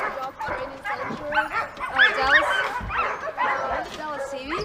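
Sled dogs at an indoor sled dog training center bark and yip in a busy, overlapping chorus, loud and fairly close, with a voice speaking over them.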